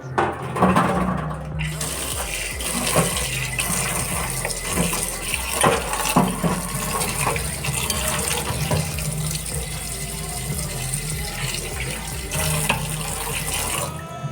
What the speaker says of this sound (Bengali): তো এইগুলো এখন একটু ধুয়ে নেব, ধুয়ে পরিষ্কার করে নিই।